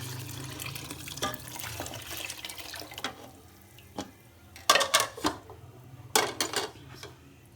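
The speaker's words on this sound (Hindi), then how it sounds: "चनों का पानी इसके अंदर डालने लगी।" Cooking water from boiled chickpeas poured into a pot for Lahori white chanay: a close, steady splashing stream broken by a few sharp clatters of metal utensils against the vessel.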